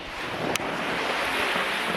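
Waves and surf wash steadily at a beach in Hunny Bay, St. Ann, with wind gusting across the microphone; a continuous broadband rush with one brief sharp click partway through, no voices.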